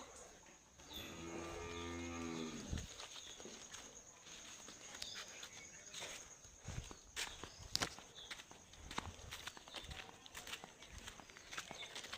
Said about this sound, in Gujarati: આ છે તેમની બે ગાયો